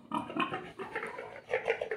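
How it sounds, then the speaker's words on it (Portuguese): Several pigs grunt and oink close by on a farm in a rapid, continuous series of short snorting calls, loud and heard alone with no talk. "Tu escolhe três porcos aí, eu vou te dar três porcos."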